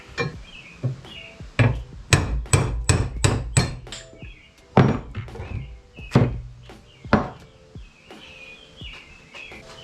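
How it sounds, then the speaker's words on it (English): A hammer taps a bushing out of an A-arm on a 2020 Polaris RZR Pro XP, striking metal with sharp, ringing blows, some in quick runs and some spaced out, close up with faint birdsong behind. "take that ring out, and then you can tap the bushing out that way"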